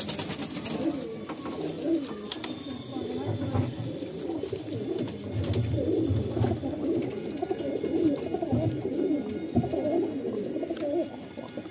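Pigeons in a pigeon loft coo over one another in repeated throaty, bubbling calls that continue throughout, with faint background noise.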